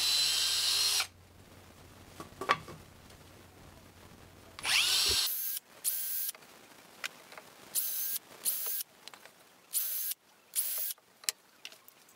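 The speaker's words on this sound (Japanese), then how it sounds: "その中心に向けて通し穴を開けていきます。" A power drill bores through-holes in wood for a desk, sounding in several short, loud whirring bursts separated by quiet gaps, close up and without talk.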